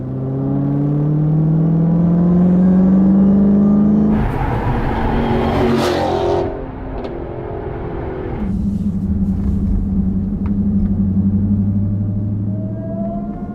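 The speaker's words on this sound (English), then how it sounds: "you get just the perfect amount of throttle to hear that supercharger just whine" A 2015 Dodge Charger Hellcat's supercharged V8 revs hard with a rising supercharger whine, surging up in pitch, dropping briefly, then climbing again with a deep roar underneath.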